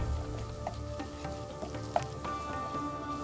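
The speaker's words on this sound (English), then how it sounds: "Let the poppy seeds fry for 30 seconds more." Poppy seeds fry in hot oil for a beef pasanday dish, a low steady sizzle with faint crackles and an occasional small pop, close and fairly quiet, without speech.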